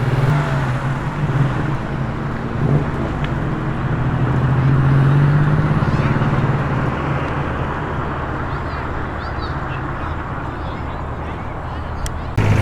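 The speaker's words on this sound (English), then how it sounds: "goes the Commodore, ladies and gents, in the maroon. The nice soft burble of the V8." A maroon Holden Commodore V8 drives past in a Sydney street, its low, soft engine burble rising as it nears and then fading, under constant traffic noise and someone talking.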